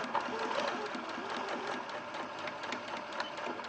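A sewing machine runs steadily through a stay stitch along a fabric seam, its motor whirring in a continuous fast rhythmic chatter, close and fairly loud for a few seconds with little else heard.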